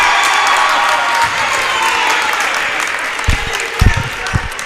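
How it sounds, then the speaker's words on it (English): A high-school basketball crowd of Chieftain fans at a varsity game applauding and cheering in a dense, sustained roar, with low thuds near the end and a commentator talking over it. "Never seen a crowd as fired up as this Chieftain crowd is"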